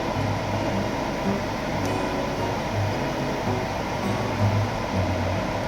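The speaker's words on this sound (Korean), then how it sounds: "선루프도 아주 작동 잘 되고 있습니다" An electric car sunroof motor runs with a steady, even mechanical whir and hum, unbroken throughout and fairly close, heard from inside the cabin.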